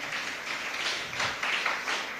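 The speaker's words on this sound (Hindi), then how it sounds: "जोरदार तालियों के साथ।" Audience clapping and applause welcoming guests at a Jain Adinath Janm Kalyanak festival gathering, a steady mid-level wash of hand claps with slight swells, no voices.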